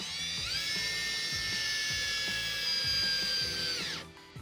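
A power drill drives screws through a bathtub flange into a wall stud, giving a steady high whine of about four seconds over rhythmic clicking ratchet pulses that stops abruptly at the end.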